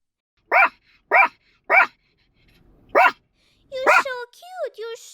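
An animated puppy barks in short, evenly spaced yaps, three in a row, then a fourth after a pause, followed by a higher yelp and whimpering cries, all close and clear.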